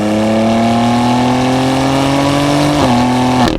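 Loud, close engine note from a BMW X4M Competition held at around 3,000 RPM for a launch, a steady droning rev that climbs slightly in pitch, dips briefly, then pulls away at the end.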